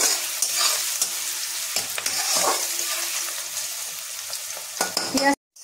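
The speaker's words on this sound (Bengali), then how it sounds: "এখানে দেখুন আমার পেঁয়াজ ভাজাটা হয়ে গেছে" Onions frying in a pan for egg tadka, a bright sizzle with repeated scraping stirs of a spatula, close and steady before a brief cut near the end.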